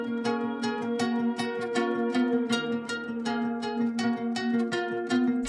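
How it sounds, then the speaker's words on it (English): A layered guitar and flute melody from a guitar-based FL Studio beat, notes plucked in a quick steady pattern with sustained tones, continuous and clear with no talking. "So basically the guitar with the flute sound like this."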